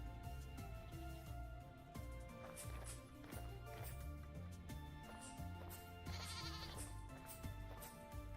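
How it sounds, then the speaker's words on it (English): Ibexes and goats bleat in the Vintage Story video game, their calls repeating over a steady bed of game music with occasional hoof clatter in a mountain landscape. "Here are ibexes."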